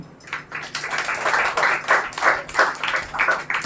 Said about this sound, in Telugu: చేతులు ఎత్తిన వాళ్ళకి చప్పట్లు కొట్టండి.